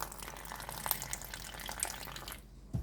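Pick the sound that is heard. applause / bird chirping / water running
water running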